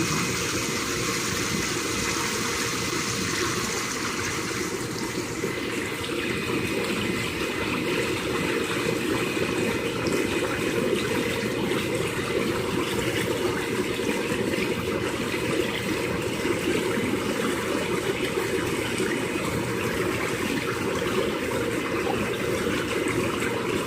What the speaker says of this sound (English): let me go over here and I'll turn the bubbles on so that you can see how efficient those work.